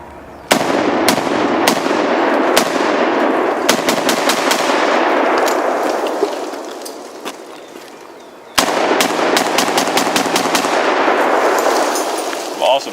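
Several loud gunshots from a compact AK pistol fired outdoors at a range, sharp cracks in two bursts of irregularly spaced shots with echoing tails and a quieter pause between.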